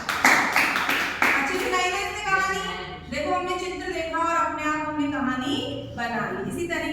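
Children clap their hands together in a classroom for a student's story, a quick burst of sharp, scattered claps in the opening second before a teacher's voice takes over and continues talking.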